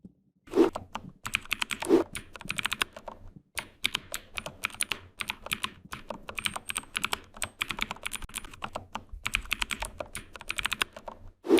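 Rapid keystrokes clatter on a computer keyboard as month names are typed into a spreadsheet, a steady run of close clicks with a few louder thumps, brief pauses and no voices.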